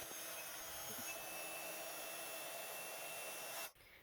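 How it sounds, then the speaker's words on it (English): Heat tool blowing steadily while melting gold embossing powder on a card, a close, even hiss-like blower drone that cuts off abruptly near the end. "Then I'm going to heat emboss that in gold to match back with our background."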